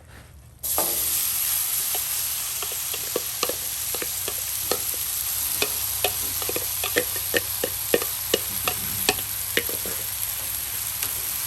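Chicken meat sizzles loudly on a Blackstone griddle in a steady close hiss, broken by repeated scraping clicks of a utensil moving the meat around, with no talking.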